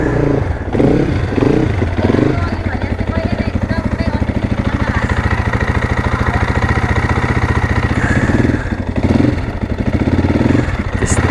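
A Crossfire motorcycle engine idles steadily and loudly at close range, a low rhythmic chug that holds throughout with a few brief rougher bursts.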